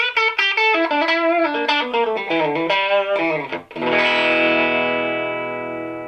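Electric guitar played through a PRS SE50 amp on a clean setting with slight distortion and warmth on top, a run of picked notes and bends ending in a strummed chord that rings out and slowly decays, no voice.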